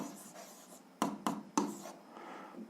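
Soft scratching of pen on paper while working an algebra exercise, a few short strokes with three sharper taps in the middle, quiet and close.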